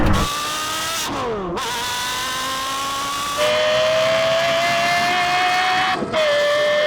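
Porsche Carrera GT V10 and Lexus LFA V10 accelerating hard in a half-mile drag race from a rolling start, a loud high engine howl rising in pitch through the revs, cut by quick gear changes, with no talking.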